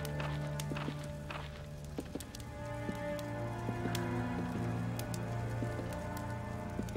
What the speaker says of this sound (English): I heard footsteps that weren't one of us.